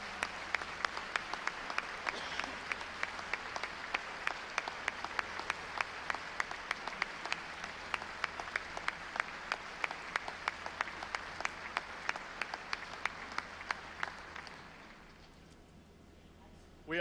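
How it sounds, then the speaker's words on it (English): A legislative chamber audience gives a long round of applause for Missouri educators during the State of the State Address, many hands clapping with sharp individual claps standing out, steady for about fourteen seconds before fading away. "Would you please join me in giving Ms. Fluke and all our Missouri educators a round of applause?"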